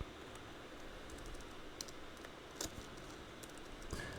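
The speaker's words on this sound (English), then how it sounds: "if I type in mount, you're able to see that it's right here mounted" Fingers typing a Linux command on a computer keyboard, producing faint, scattered key clicks over a steady background hiss, with a few slightly louder taps near the middle and end.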